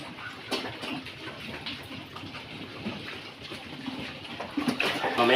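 Water sprays steadily in a hissing, pattering wash while a pig is bathed on a Philippine fattening farm, with splashes swelling louder toward the end.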